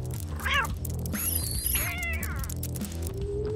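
A toy kitten meows in a few rising and falling cries over steady, loud background music, with a cartoonish sound-effect quality.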